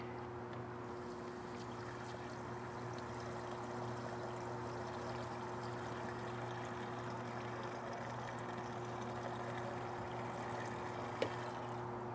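Fluid is poured through a spigot funnel into an in-ground pool line during pool closing, a steady, faint rushing trickle that continues unbroken under a low constant hum.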